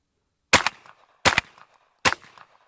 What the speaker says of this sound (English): We're just gonna take a few shots from the shoulder.